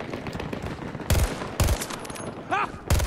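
Video game gunfire from Battlefield 2042 crackles in rapid bursts: heavy booming shots punch through around four times over a continuous rattle of automatic fire and combat noise, loud and close.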